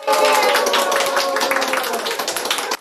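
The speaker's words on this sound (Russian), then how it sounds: "Инессу Панченко аплодисментами встречают коллеги" Colleagues in a television newsroom applauding a staff member, steady close clapping from a small group that runs throughout and stops abruptly at the end.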